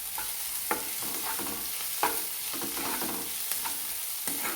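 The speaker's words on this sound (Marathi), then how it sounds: "दोन मिनिट शिमला मिरची परतून घेणार आहोत" Chopped capsicum sautéed with onion in a frying pan, giving a steady close sizzle with occasional stirring scrapes throughout.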